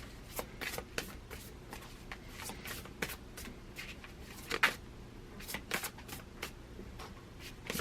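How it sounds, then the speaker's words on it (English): Close, quiet shuffling of a deck of cards for a tarot-style reading, with irregular riffles and soft flicks and taps spread across the stretch, and no voices. "You can't even see them shuffling, can you?"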